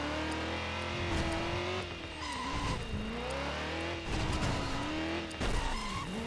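A car engine in the Driver: San Francisco video game revs and rises in pitch through gear changes, with tire squeal and skidding, loud and continuous throughout with no talk.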